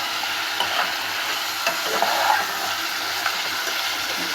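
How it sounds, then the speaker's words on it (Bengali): Meat and lentils are stirred in a cooking pot, giving a steady soft sizzle with scraping and a few light knocks of the spoon against the pot, close and continuous, with no talking. "দেখতে পাচ্ছেন ভালোভাবে নেড়ে চেড়ে নিয়েছি"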